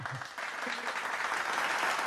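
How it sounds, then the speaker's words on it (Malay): Hand clapping during an online math revision lesson forms a steady, fairly quiet patter of applause, continuous from start to finish. "Cikgu tepuk tangan untuk kamu semua"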